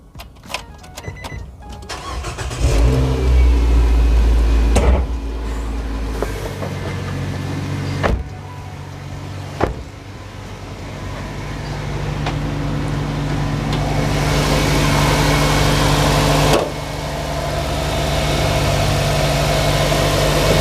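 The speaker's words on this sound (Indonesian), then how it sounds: "Sekalian kita nyalain nih biar kedengaran suara mesinnya kayak gimana." A 2017 Nissan Livina X-Gear engine cranks briefly and catches, then settles into a steady, smooth idle heard up close, with a few faint clicks and knocks over the continuous hum.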